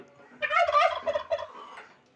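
Country chickens kept on a rooftop terrace give a close, loud burst of clucking calls lasting about a second, with quieter fowl sounds trailing off, and no talking.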